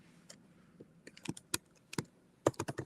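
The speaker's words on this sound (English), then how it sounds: "typing what they're asking me to do" Someone types on a computer keyboard, with sparse irregular clicks that build into quicker bursts of keystrokes near the end, close and fairly clear over quiet background with no talking.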